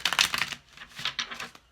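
Tarot cards are shuffled close up in a quick run of dry, papery riffles and flutters, with a short pause midway and no talking.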